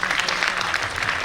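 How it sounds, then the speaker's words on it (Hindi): Children in an audience clap for themselves at an event with film stars, a brief, steady patter of close applause with some low background murmur. "एक बार अपने आप के लिए तालियां बजा लो प्लीज"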